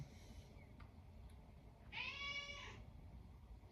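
A house cat gives a single clear meow lasting under a second, fairly close, over a steady low background hum, with faint small noises before it.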